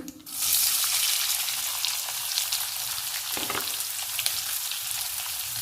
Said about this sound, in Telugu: కరివేపాకు ఆనియన్స్ని రెండు నిమిషాలు ఆయిల్లో వేయించుకోవాలి